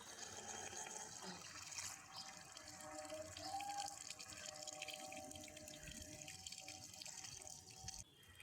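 A homemade 3D printed water pump moves water in a steady running, splashing stream like a tap filling a sink, fairly close and continuous throughout with a brief drop near the end.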